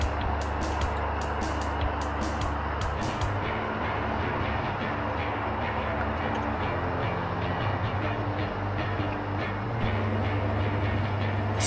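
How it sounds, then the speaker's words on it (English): A train in the VR game Mosh Pit Simulator passes with a low rumbling drone and rhythmic clatter, steady and fairly loud throughout, with a few sharp high ticks at the start. "See that train?"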